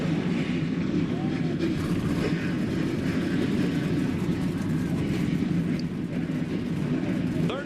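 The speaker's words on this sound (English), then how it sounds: "Race cars coming to life here at Toledo Speedway in Toledo, Ohio" Race car engines roaring to life at Toledo Speedway in Ohio for an ARCA Remax Series race, a loud, continuous rumbling drone of several engines filling the scene.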